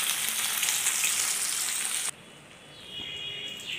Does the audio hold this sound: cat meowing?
no